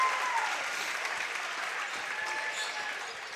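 A crowd at a varsity high school basketball game against Bangor Christian applauds a made basket, a loud, sustained clapping that fades slightly, with some voices mixed in.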